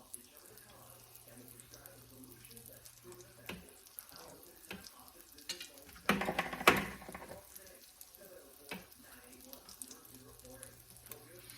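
Breaded pork frying and browning in a pan for chicken fried pork, giving a quiet, steady sizzle with a few louder bursts around the middle and faint kitchen clatter.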